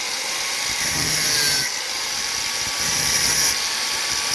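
A blacksmith cuts an old steel file to shape a coconut scraper, giving a harsh, continuous high-pitched grinding whine that swells louder twice, with no talk.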